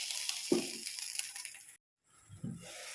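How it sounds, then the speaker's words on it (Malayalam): Two cups of water coming to a boil in a pan for oats upma: a soft bubbling hiss with a couple of faint clinks, cut off by a brief silence before the gentle simmering noise resumes. "തിളച്ച് വന്നിട്ടുണ്ട്."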